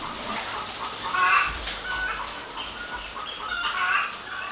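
Laying hens cluck and cackle continuously in a poultry shed where the birds roam loose with nests, a dense, close chorus of overlapping calls.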